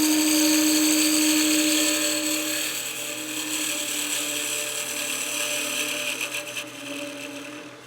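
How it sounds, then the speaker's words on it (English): A skew chisel squares the face of a spinning wood blank on a lathe, giving a steady whine and scraping hiss that fades slightly and then flutters near the end, with no talk over it. "I'll get my skew and just make sure that this face is completely flat"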